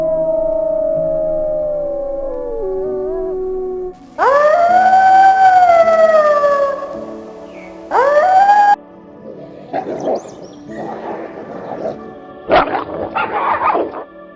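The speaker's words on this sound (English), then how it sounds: "These are the sounds Russian wolves make." Russian wolves give long, rising and falling tonal howls, loud and sustained, then break into shorter yips and barks near the end.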